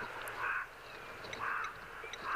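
Raven calling outdoors, a few harsh, ominous croaks spaced about a second apart, fairly distant over a soft background hiss.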